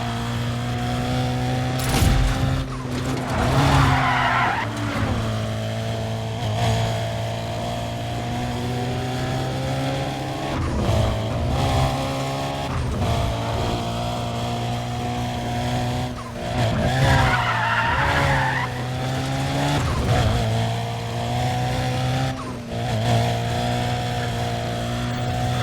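Race cars in the Need for Speed: Undercover video game, with engines droning steadily and loud, repeated tire squeals and skids throughout, and no talking.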